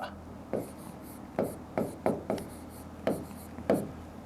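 Chalk or marker strokes on a board during a maths lesson on divisibility, a series of short, separate scratchy taps spaced irregularly, fairly close and clear over a quiet room with no talk.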